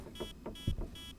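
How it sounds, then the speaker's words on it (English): An EMF reader in the horror video game Demonologist gives three evenly spaced electronic beeps, clear and fairly loud, each about a fifth of a second long, over faint background sounds. "When I walk up to a door, something that it's touched, you'll notice it beeps louder."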